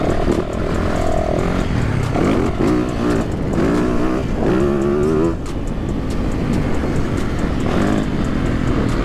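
A motorcycle engine revving hard on a track day, loud and close throughout with rising and falling pitch through repeated throttle pulls and gear changes, under steady wind rush.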